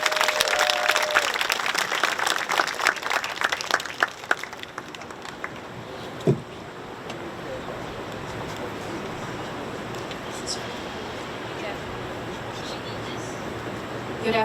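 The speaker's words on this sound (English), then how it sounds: "Please give a warm round of applause." Applause from an audience at a memorial anniversary ceremony, a dense clapping wash for about four seconds that fades into a murmuring crowd with some talk.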